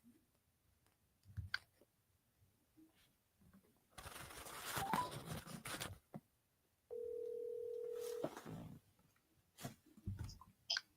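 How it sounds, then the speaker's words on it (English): A phone signalling an incoming FaceTime call: a steady single-pitched tone lasting just over a second, preceded by a burst of rustling noise, with no one talking. "Somebody tried to call my phone."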